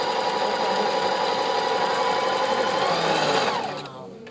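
A Singer sewing machine runs steadily on a wide feather stitch, its loud continuous mechanical whir and rapid needle chatter holding for several seconds before the motor winds down and slows to a stop.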